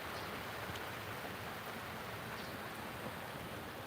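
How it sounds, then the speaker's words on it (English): Steady rain pours down over a garden, a dense, even hiss of drops close by with no breaks or other sounds. "See that rain?"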